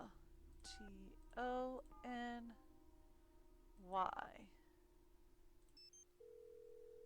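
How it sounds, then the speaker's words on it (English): A cell phone in the Nancy Drew: Secrets Can Kill video game gives a few short electronic dialing beeps and tones, followed by a steady tone, quiet against a low background hum. "They gave me the cell phone, right? 555 Tony. Is it still available on the cell phone?"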